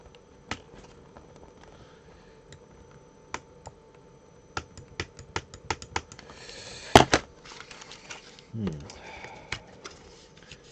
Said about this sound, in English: Let's try the scissors again.